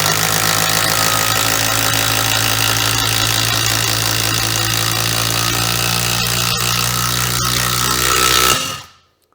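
Dewalt DCF801 impact driver with a 3/8 to 7/16 socket adapter driving screws into wood, a loud, continuous rattling hammer buzz held steadily for about eight seconds before cutting off abruptly.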